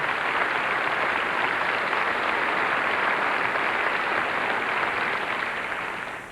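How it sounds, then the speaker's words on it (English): Sustained, dense applause from a large audience at the 1997 NASCAR Winston Cup Series awards ceremony, greeting members of the championship team; steady and loud throughout, easing slightly at the very end. "let's have a nice round of applause, please, for these members of the championship team."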